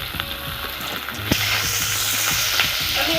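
Onions fry in hot oil in a pan for a fish curry, a steady close sizzling hiss that swells noticeably partway through and continues with faint stirring scrapes, no voices.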